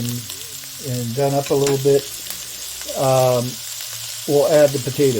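Peppers fry in a pan with a steady, close sizzle that sits under a person talking throughout.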